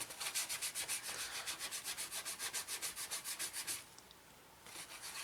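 A moistened fingertip rubs back and forth over the edges of decals on a 1/32 scale Eduard Messerschmitt Bf 109E-3 model, making a fast rhythmic series of close, dry rubbing strokes that pause briefly near the end before resuming.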